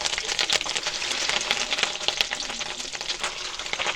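Fish roe fritters fry in hot oil with a dense, continuous sizzle and crackle, close and fairly loud throughout. Small pops and spatters rise from the sizzle, with no talking.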